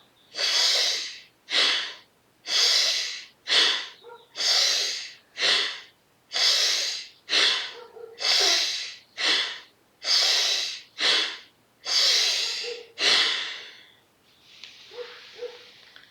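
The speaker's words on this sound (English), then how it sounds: "7 breaths together. Here we go." Deep, forceful breaths during a breathing exercise, about thirteen in a brisk steady rhythm of loud inhales and exhales close to the mic, ending with a softer, quieter breath.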